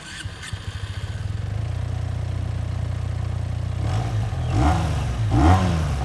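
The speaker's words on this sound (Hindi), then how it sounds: "इस बाइक का साउंड आपको इस वीडियो के एंड पर सुनाएंगे" A Benelli 302S motorcycle engine starting and then idling steadily, followed by two sharp revs near the end, loud and close with no speech.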